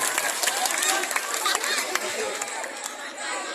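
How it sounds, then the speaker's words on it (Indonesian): Students at a Jakarta junior high school Maulid Nabi gathering clap for a classmate, a moderate, scattered round of applause mixed with crowd chatter. "Tepuk tangan dong untuk adik kita"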